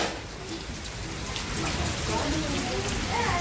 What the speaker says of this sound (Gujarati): વરસાદ ચાલુ છે જોરદાર,